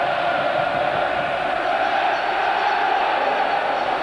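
A football stadium crowd at a 1999-00 League Cup semi-final between Bolton and Tranmere roars in a loud, continuous wall of sound that holds steady without a break.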